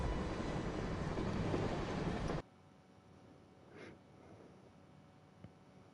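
A train in TimeSplitters: Future Perfect on PS5 gives off a loud, dense rumble for about two seconds, then cuts off abruptly, leaving faint, quiet game ambience.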